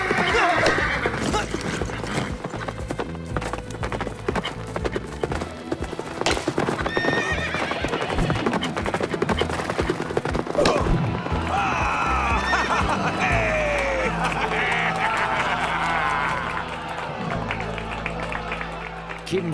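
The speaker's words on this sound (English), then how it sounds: "They gave him a horse that seems possessed" Horse hooves clip-clopping steadily with repeated neighing and whinnying, moderately close, over background crowd noise and some voices, a busy riding scene lasting the whole stretch.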